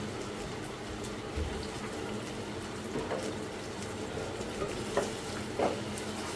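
Onion, tomato, dried chillies and ginger garlic paste fry in a pan for hotel-style egg curry, giving a steady close sizzle with occasional soft stirring scrapes.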